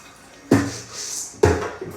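Rinse water is tipped out of a bowl of soybeans during tempeh making, two short close splashing pours a second apart, each with a brief clatter, in a quiet room.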